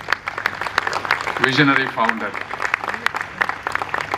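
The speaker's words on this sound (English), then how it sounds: "So I want to give a big round of applause for your" Audience applause at an eye institute graduation ceremony, scattered claps ringing out in the hall while a speaker's amplified voice briefly talks over them.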